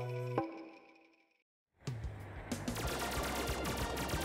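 Rapid retro game gunfire in a shooting stage of Bakeru, a fast stream of repeated shots with music beneath, following a short chiptune jingle and a moment of silence.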